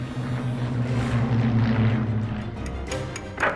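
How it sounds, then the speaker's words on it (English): German Heinkel bomber engines during the Battle of Britain, a loud, continuous droning roar with a steady low propeller hum that holds and slowly shifts. "German bombers, especially the Heinkels, they made a very distinctive noise."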